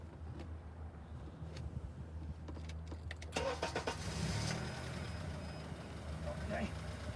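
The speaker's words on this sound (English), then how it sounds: "So I'm cranking the car up." A Honda car engine cranks with rapid rhythmic chugging, then catches and runs up into a rough, louder idle, recorded close by; a person is talking at the same time.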